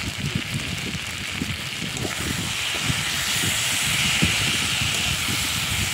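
Egg-bora curry masala with a pinch of garam masala being sautéed in a hot pan, a dense continuous hiss with busy scraping and stirring underneath, fairly loud and close, without any speech.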